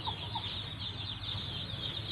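Free-range village chickens roaming loose with chicks and hens, soft clucking blended into a steady outdoor hum, with a couple of brief faint calls near the start.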